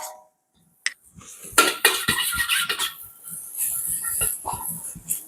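A spoon scrapes and clatters against a pan while mixing chicken fried rice, giving busy, close metallic knocks and rustling after a brief quiet start, with no talking.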